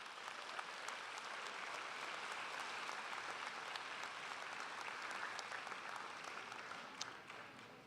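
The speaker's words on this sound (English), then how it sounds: "So a round of applause for the families and friends." Sustained applause from a graduation audience honoring families and friends, a dense, even wash of many hands clapping that carries for several seconds before tapering slightly at the end.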